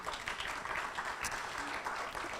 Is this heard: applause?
yes